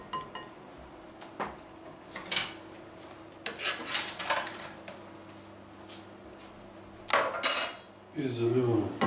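A spoon stirring lamb offal sarma in a metal pot, heard as close scraping and clanking in short irregular bursts, with a few quieter gaps between them.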